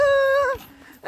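A dog lets out a loud, close, drawn-out whimpering howl that slides down in pitch, then breaks off into a short yelp near the end.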